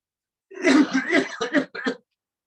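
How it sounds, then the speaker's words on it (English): A few loud, harsh coughs in quick succession during a yoga breathing exercise, close up, with brief pauses between bursts and no talking. "you breathe in and cough loudly for 3 to 4 times twice"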